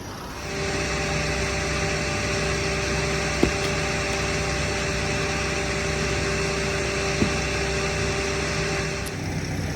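A concrete truck's engine idles at a slab pour for an Airstream pad, a constant close droning hum broken by two brief clicks, with no talk.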